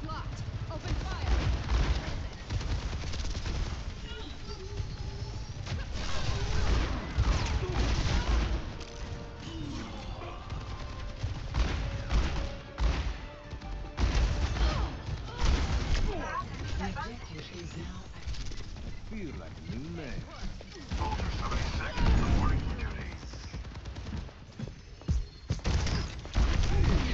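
Rapid gunfire, impacts and explosions from Overwatch 2 clatter almost continuously through a match round, loud and dense, with game voice lines mixed in.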